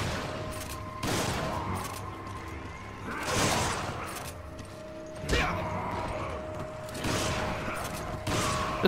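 Shotgun blasts in Resident Evil 5 boom out at spaced intervals, about five heavy shots over several seconds, each with a sharp attack and decaying tail above a low game background hum.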